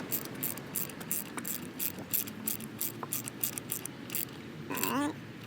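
Rapid ratchet clicks come in short repeated bursts as spark plugs are tightened on a 2003-2007 Honda Accord, close and fairly loud, with a brief metallic scrape near the end.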